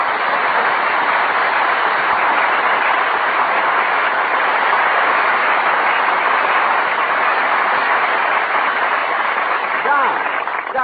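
A steady, dense rushing roar of a running train, loud and continuous, with a faint rhythmic clatter beneath.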